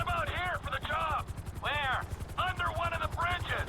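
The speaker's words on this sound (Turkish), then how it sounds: "Böyle yapınca helikopter kendi kendine sürüyor otomatikman." Helicopter flying in GTA V, a steady fast rotor thump running underneath throughout while someone talks over it almost continuously.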